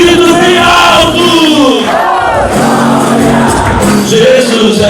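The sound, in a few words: congregation shouting loudly in church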